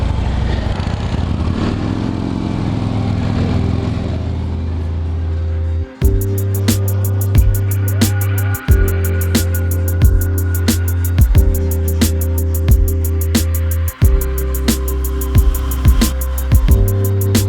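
A motorcycle rides out into evening traffic heading through downtown Los Angeles, its steady engine drone loud and close, with periodic clicks and brief dips as it shifts or slows, continuous throughout.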